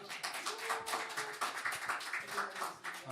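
A church congregation claps to welcome a missionary to the stage, a full, sustained round of crowd applause that stays even and close for the whole stretch, with no speech heard.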